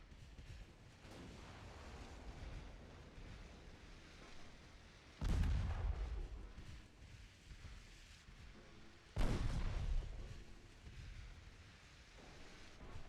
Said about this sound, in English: I switched all my main guns over to them before they could.